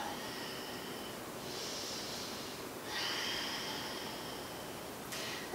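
Slow, deep breathing during a hatha yoga hip stretch, quiet nasal inhales and exhales in long swells, soft and close, with no talking.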